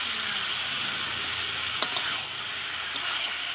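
Duck eggs fry in hot oil in a pan, a steady close crackling sizzle with a brief scrape of a utensil partway through.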